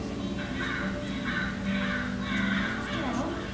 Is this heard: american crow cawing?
yes